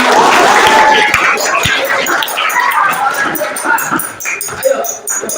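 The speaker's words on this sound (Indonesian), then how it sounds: "Tepuk tangan untuk teman-teman." Students in a classroom clap for their classmates, a short round of scattered applause with loose, uneven claps, while voices and chatter carry over and around it and the clapping fades toward the end.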